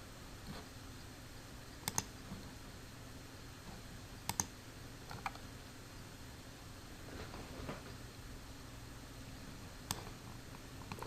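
Sparse, sharp computer mouse clicks, single and double, scattered at irregular intervals over a low steady background hum, quiet and close.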